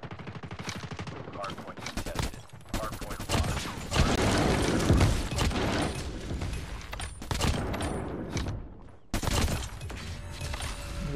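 Loud gunfire in a Call of Duty hardcore match with the Krig 6 rifle: rapid automatic bursts and single shots in clusters, with pauses between volleys and occasional shouting over the shooting.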